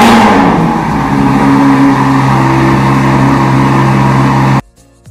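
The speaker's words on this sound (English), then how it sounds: "Guys, check out how loud this car is." A loud sports car engine runs close by with a strong, steady roar, with no talk over it, until it cuts off abruptly just before the end.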